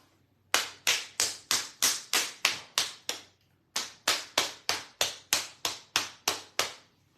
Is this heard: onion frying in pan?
no